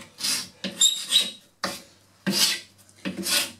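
A paint scraper scrapes old wood trim on a boat in five rasping strokes with short pauses between them, close and clear, with no voices.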